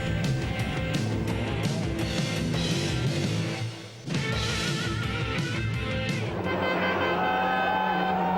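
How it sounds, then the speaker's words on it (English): A privately run Seat Ibiza kit car, a former works car, races flat out up a bare tarmac rally stage in the Monte Carlo Rally, engine loud and near with revving, gear changes and brief tire noise throughout. "here's the Formula 2 leader, Tony Gardemeister, in a privately run Seat Ibiza kit car"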